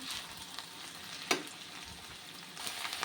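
Okra (bhindi) fries in an open kadai with a steady, close hiss and crackle of oil, plus a sharp clatter near the middle and light stirring scrapes toward the end.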